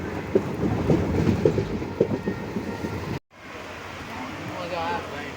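A moving train runs through monsoon rain between Sihor and Lathi, a continuous low rumble with faint clatter and muffled voices, cut by a brief dropout before the rolling noise resumes.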